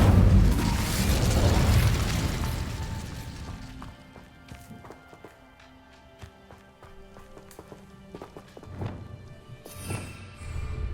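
An Incendio fire spell bursts in Hogwarts Legacy, a loud whooshing flare that fades over a few seconds, followed by scattered small pops and clicks and a second burst near the end.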